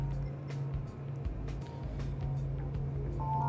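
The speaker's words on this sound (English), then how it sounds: "it's a very loud car" Loud race car engine in Gran Turismo 7, revving past 10,000 RPM during a GTWS Berlin event race, holds a steady low droning note with faint ticks over it, constant and close.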